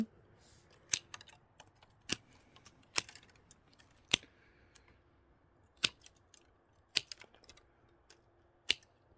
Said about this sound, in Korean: 요 가지도 이렇게 잘라줍니다